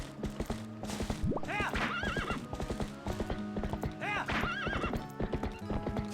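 Hooves of the horse Epona clip-clop steadily in the video game Zelda Twilight Princess, a close, rhythmic trotting with a couple of whinnies breaking through, no talking.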